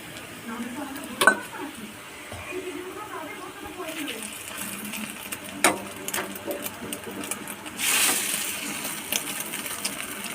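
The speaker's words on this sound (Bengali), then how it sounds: "এটাকে ভালো করে এবার ভেজে নেব আগে মুচমুচে করে" An egg roll wrap fries crisp in a pan, a soft crackling sizzle broken by occasional utensil clinks and a louder burst of frying near the end.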